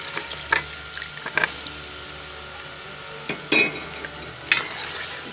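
Beef sizzling and frying in karahi masala, with a steady crackling hiss and occasional clinks and scrapes of a stirring utensil against the pan, close-up and with no talk.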